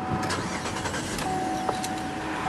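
A 2009 Buick Enclave CXL starting up, a brief cranking burst giving way to a steady, close engine idle with a faint high whine over a low hum.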